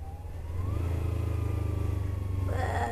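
A Kawasaki motorcycle engine drones and slows under engine braking, a close pulsing rumble that swells then holds steady with a shift in tone near the end.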